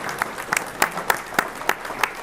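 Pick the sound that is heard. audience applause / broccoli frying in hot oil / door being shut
audience applause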